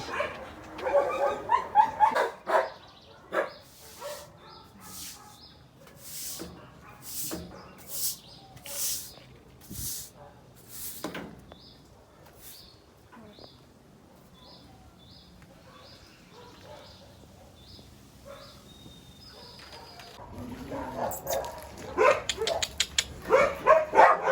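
Old dogs barking in a house in Guatemala, a burst of loud barks at the start and again near the end with scattered barks between, with bird chirps in the background.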